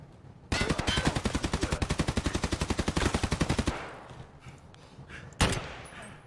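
Automatic gunfire in a video game: a loud, fast, evenly spaced stream of about three dozen shots lasting roughly three seconds, followed by quieter scattered sounds and one more sharp shot near the end.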